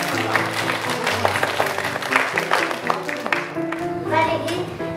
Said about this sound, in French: on peut s'applaudir quand même